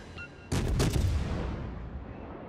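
A single heavy naval gun blast from World of Warships erupts loudly after a quiet moment, with booming echoes rolling on and slowly fading.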